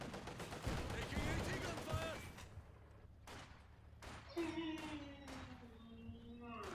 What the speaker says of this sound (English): AT gun shooting